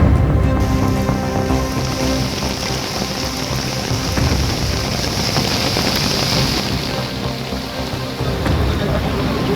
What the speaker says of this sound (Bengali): কলকাতার বিভিন্ন জায়গায় প্রবল বৃষ্টি শুরু হয়েছে, সঙ্গে দমকা হওয়া